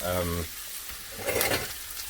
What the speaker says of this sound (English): Whole onion, about a medium-sized onion. Let that cook off.